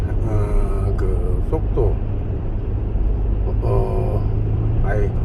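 A van drives through an 80 km/h average-speed enforcement zone, its engine and tyre-road noise forming a steady, loud low drone throughout, with a person talking over it.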